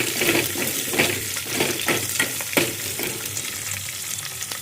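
Curry leaves frying in hot oil for Andhra-style okra tamarind curry, a loud dense crackle and hiss throughout, with scattered sharper pops and spatters close by.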